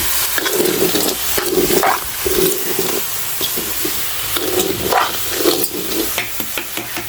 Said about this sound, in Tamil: அப்படியே பாருங்க குரக்கமா வறுவல்.